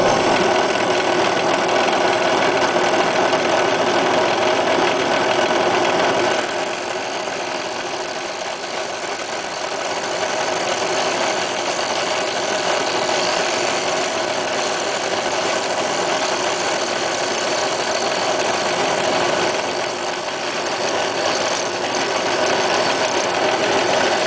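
Homemade fly cutter built from a grade 8 bolt machining metal, giving a steady, loud, continuous whirring and cutting drone with only a slight drop in level partway through.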